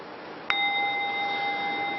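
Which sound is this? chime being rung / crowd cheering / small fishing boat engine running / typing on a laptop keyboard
chime being rung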